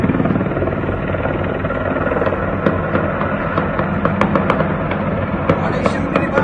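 Gunfire near a helicopter in Kabul: sharp cracks and pops scattered through the last half, over a steady loud rotor and crowd roar, with voices in the background.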